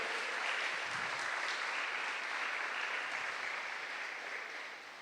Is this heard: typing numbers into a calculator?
no